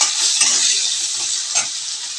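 Onions and bay leaf fry in hot oil with a bright, steady hiss and sizzle and occasional stirring scrapes, close up and alone.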